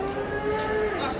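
A calf or cow at a crowded livestock bazaar in Taraz lets out one long, sustained moo that holds steady and drops at the end, loud and close over a murmuring background.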